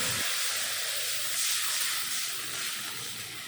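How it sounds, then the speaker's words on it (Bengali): Water poured into a hot pan of fried crushed garlic and green chilies, giving a loud, steady steam hiss that sustains for a few seconds with no talk over it. "রসুন ভাজা হয়ে গেল দিয়ে দিলাম জল"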